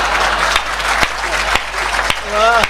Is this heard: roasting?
no